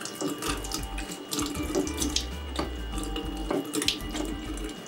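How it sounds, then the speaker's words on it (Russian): Water pours from the valve of a homemade washbasin made from a hung plastic bottle, splashing continuously into a basin below in uneven bursts, close and fairly loud with no talking. "Вот так работает наш рукомойник."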